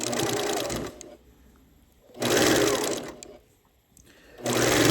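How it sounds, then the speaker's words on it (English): Sewing machine stitching quilt fabric strips together, three loud bursts of rapid mechanical whirring and needle clatter separated by quieter pauses, close up with no talking. "as I sew these strips to make now two strips, a 2-strip unit"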